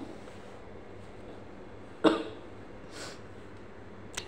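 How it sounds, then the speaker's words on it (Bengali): One sharp, loud cough nearby breaks a quiet room, followed a second later by a softer, breathier cough. "দেখো আমার কাশিটা এখনো ভালো হইতেছে না"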